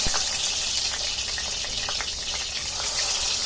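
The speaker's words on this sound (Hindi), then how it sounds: "तेल गरम हो गया, अभी मच्छी फ्राई करेंगे।" Bangda fish frying in hot oil, a steady dense sizzle with bright crackling and popping that continues evenly throughout, close and moderately loud.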